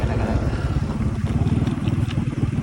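A motorcycle rumbles loudly and continuously as it wobbles along a bumpy off-road track, its engine noise and rattling filling the whole moment close up.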